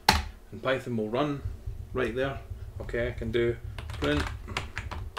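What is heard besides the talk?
typing on computer keyboard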